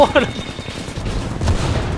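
Rapid gunfire bursts from an Apex Legends match in a 9v9 mode, close and loud, with overlapping shots and excited voices talking over the fighting.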